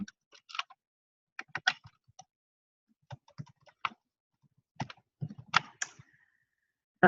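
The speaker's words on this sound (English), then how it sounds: "So I'm just going to type in a name." A name being typed on a computer keyboard in an office software demo: sparse, close, quiet key taps in short irregular clusters separated by pauses, with no voices.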